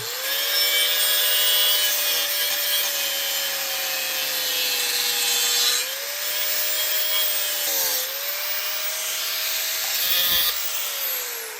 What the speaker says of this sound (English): that's a cutoff wheel. We just use to do a little grinding